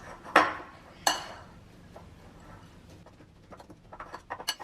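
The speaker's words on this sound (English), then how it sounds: "And give it a good mix." Wai Wai instant noodle snack pieces with tender green leaves get mixed in a bowl: two sharp knocks of a utensil against the bowl, then faint scraping and small clicks, with no talking.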